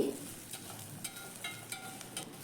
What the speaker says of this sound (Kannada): ತೆಂಗಿನ ತುರಿ ಆ್ಯಡ್ ಮಾಡಿಕೊಂಡು ಸ್ವಲ್ಪ ಫ್ರೈ ಮಾಡಿ